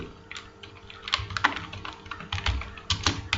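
Close computer keyboard keystrokes typing out a short word, landing in quick irregular clusters of clicky taps with no one talking.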